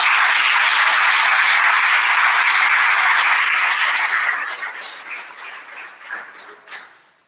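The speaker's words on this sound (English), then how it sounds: "Round of applause for the eighth graders." An audience at an eighth grade graduation ceremony breaks into loud, dense applause that holds steady for about four seconds, then thins into scattered claps and fades out.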